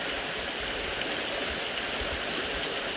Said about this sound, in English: This water sound is so peaceful.